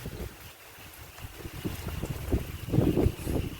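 Wind gusting during heavy morning rain, a low buffeting rush against the microphone that rises and falls unevenly and grows stronger toward the end.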